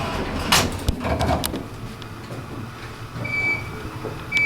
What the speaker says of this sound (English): you get instant door close.